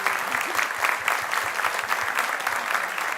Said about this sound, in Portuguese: Pode aplaudir ao Senhor, que lindo